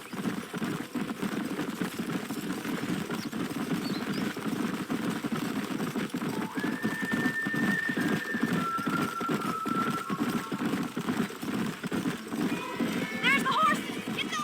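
Horses in the Red Dead Redemption video game, hooves clopping in a steady, close rhythm that runs the whole way through, with voices and faint whistling tones mixed over the top.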